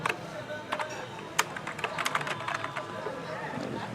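Someone types on a computer keyboard while filling in names on an online electricity meter application form, with quick irregular key clicks close by under a man's speech.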